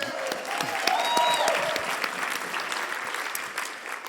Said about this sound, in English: Let's give Meredith a round of applause.